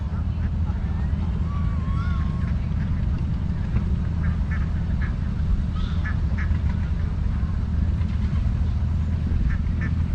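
A flock of ducks quacks repeatedly during a duck herding demonstration at a culture and harvest festival, scattered calls over a steady outdoor rumble, with people talking nearby.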